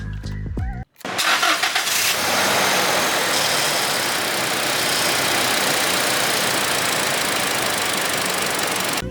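A white 2020 Toyota Innova Reborn G with a petrol engine and manual gearbox cranks briefly and starts, then settles into a steady, loud, close idle with a broad even hiss.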